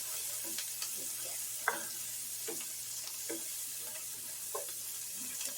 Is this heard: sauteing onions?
yes